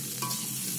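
Chowmein frying in a pan together with potato and egg, a steady close sizzle with a brief stirring scrape, short and continuous with no talking.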